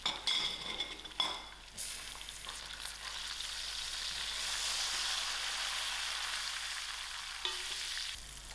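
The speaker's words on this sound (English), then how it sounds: "To my oil, I'll add in my masalas." Masalas sizzle loudly in hot oil in a pan for broad beans chutney, a dense steady frying hiss with a few metal clinks of stirring at the start and near the end, no talking.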